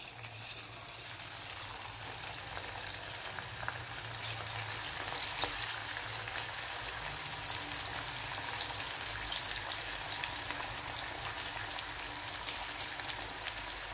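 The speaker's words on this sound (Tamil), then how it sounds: "ஒரு 2 நிமிஷம் பொரியட்டும்" Bitter gourd slices frying in hot oil on a tawa, giving a steady, dense crackling sizzle that runs unbroken and fairly close, with no voices.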